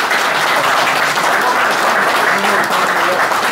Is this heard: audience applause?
yes